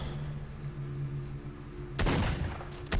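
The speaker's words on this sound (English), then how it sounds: "Oh, I can hear gunshots behind me" Gunfire in an online team shooter video game, a sudden loud burst of rapid shots breaking over a steady humming background, then another short burst at the end.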